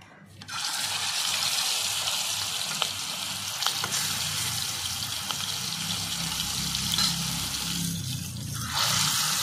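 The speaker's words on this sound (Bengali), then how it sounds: "চিকেনটাকে হালকা করে একটু আগে লাল করে ভেজে তুলে নেব" Chicken pieces browning in hot oil in a kadai for a yogurt chicken curry give a loud, continuous sizzle that keeps up steadily with a few crackles.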